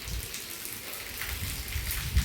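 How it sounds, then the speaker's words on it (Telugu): Heavy rain falling outdoors, a steady soft hiss of drops with low rumbling texture, continuous and moderately faint, with no voices. "వర్షం ఇంకా కొంచెం ఎక్కువనే అవుతుంది."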